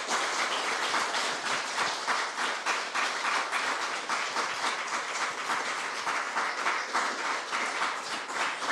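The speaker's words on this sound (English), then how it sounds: "let's have one more round of applause for everyone" A hall audience gives a sustained round of applause for the winners of a young people's writing competition, steady dense clapping filling the whole stretch with no voices over it.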